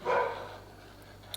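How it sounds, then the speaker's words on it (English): A neighbor's dog in the countryside gives a single short bark at close range, loud at first and then trailing off into quiet room tone. "Yep, this is one of the neighbor's dogs"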